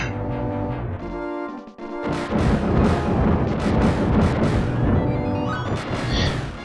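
Rapid gunfire and blasts from the Super Star Wars video game, a loud, dense barrage of repeated bursts that runs almost continuously after a brief lull near the start.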